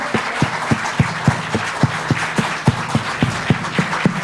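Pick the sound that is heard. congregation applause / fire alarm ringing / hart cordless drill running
congregation applause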